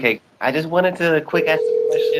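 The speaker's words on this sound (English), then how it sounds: "You can hear a phone ringing in the background." Telephone tone from a call-in line, a steady electronic note starting partway through and holding to the end, under and after a man's speech.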